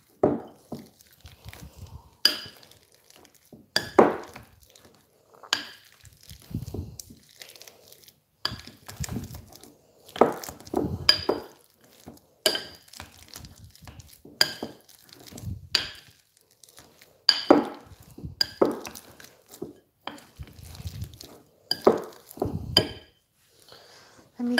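Cooked taro is mashed in a bowl with a potato smasher, giving a long series of irregular soft squashing thuds and crinkly knocks, close and alone with pauses between strokes.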